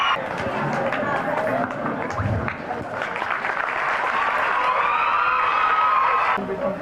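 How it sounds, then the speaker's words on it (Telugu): Crowd at a rural model school ceremony applauding and cheering to welcome the local MLA Dr Bhupathi Reddy, a dense, loud, continuous wash of clapping with shouts, close and lasting throughout. "అందరూ చప్పట్లతో స్వాగతించడానికి"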